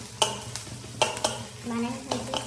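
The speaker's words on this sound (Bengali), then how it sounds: "আমাকে কাঠের খুন্তি দিয়ে নাড়তে হচ্ছে" A wooden spatula stirs pasta in a pan. The soft sizzle and scraping are faint and close, with a few sharper clacks against the pan.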